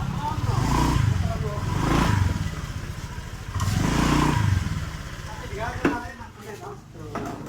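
A Honda Vario 125 scooter engine revs in repeated swells up close, with its throttle hesitating and surging at high RPM, while someone speaks over the engine noise.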